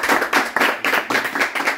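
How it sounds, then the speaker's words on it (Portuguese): Hands clapping in a home church service held in a favela, a steady series of sharp, fairly close claps in a quick rhythm from a small congregation, with no talk over it. "Bate palmas para Jesus."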